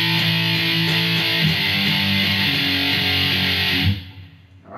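A distorted electric guitar plays a passage with barred power chords on the low strings, sustained and rhythmic, then stops sharply with a brief scrape; no voices.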